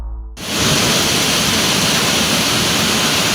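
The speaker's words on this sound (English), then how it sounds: "It looked like a fist-sized hail bomb was pouring down from the skies" Heavy storm of large, fist-sized hailstones pouring down over Rosario, Argentina, a loud, dense, unbroken roar that starts abruptly after a brief low hum and continues steadily.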